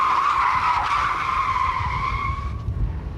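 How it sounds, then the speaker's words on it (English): A rally car skids across a skid pan, a sustained loud tyre squeal with a steady engine roar underneath, holding close and continuous before easing off near the end. "driving on a skid pan"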